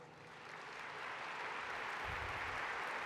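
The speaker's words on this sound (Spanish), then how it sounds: "Recibamos con un muy fuerte aplauso a Jorge Guajardo." An audience at a talk applauds, a dense wash of clapping that swells and holds steady, heard at moderate distance without speech.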